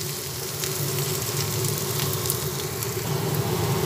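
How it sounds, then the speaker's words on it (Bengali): Ginger, onion and garlic frying together in oil in a pan for a masala fish dish, a dense continuous sizzle and crackle filling the sound, close and steady throughout with no voices. "আদা, পেঁয়াজ, রসুন একসঙ্গে ভেজে নিচ্ছি।"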